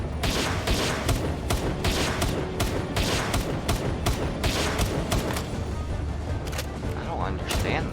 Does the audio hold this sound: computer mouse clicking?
no